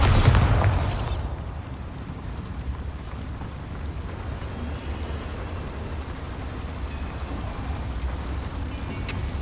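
A Bombarda blasting spell explodes in Hogwarts Legacy: one loud, sharp burst at the start, then a low rumbling decay that fades to a steady background wash.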